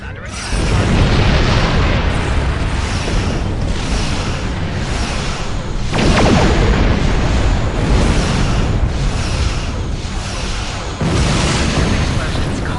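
Repeated heavy booming explosions of ships in a Star Trek game roll out one after another, loud and rumbling, with a voice speaking amid the blasts.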